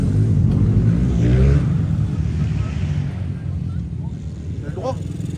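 A Yamaha RZ 250 two-stroke motorcycle engine rumbles loud and close, its revs rising and falling, with wind buffeting and a voice talking briefly over it.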